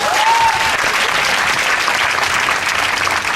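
A church congregation applauds and cheers in acclaim of God, a dense, continuous roar of clapping and voices filling the room at full volume throughout.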